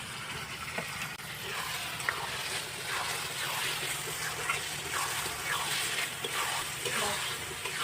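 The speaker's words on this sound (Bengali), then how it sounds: "এবার আমি দিয়ে দেবো সামান্য পরিমাণে জল।" A little water poured into Pahadi chicken curry in a hot pan makes a continuous hissing, sizzling wash, close and steady with no speech over it.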